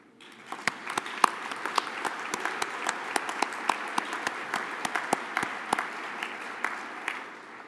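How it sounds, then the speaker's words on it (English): An audience at an American Medical Association meeting breaks into applause, sparse claps at first that quickly fill into steady, moderately loud clapping from a large room, with crisp individual claps standing out. "Now you should applaud."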